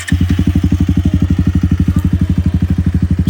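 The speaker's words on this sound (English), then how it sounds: "So finally, the starting noise is gone" A Bajaj Pulsar 220 motorcycle starts, its engine catching at once and settling into a steady, rapid, thumping idle close by. Loud, even pulses with no clatter and no voices.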